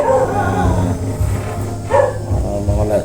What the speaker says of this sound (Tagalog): Kanina pa tong aso na to ba?